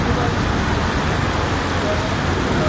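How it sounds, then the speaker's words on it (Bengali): Rain falls steadily as a loud, dense, unbroken hiss of drops close by, with a low rumbling undertone and no pauses. "বৃষ্টি হচ্ছে খুব ভালো লাগে"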